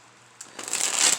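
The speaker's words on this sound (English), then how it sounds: "I have shuffled the cards and" Tarot cards being shuffled in a short, close burst of crisp riffling that builds louder over about a second after a quiet start.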